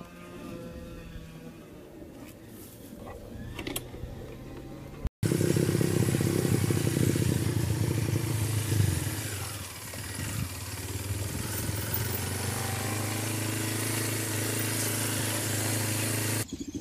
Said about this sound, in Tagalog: Saka yung motor, kinukuha na ni Mr. Dakoy-koy.